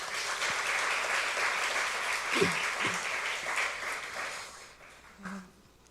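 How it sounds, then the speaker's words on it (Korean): Steady, sustained clapping from a church congregation for several seconds, fairly loud and dense, thinning out toward the end. "먼저 하나님께 영광의 박수 올려드릴게요."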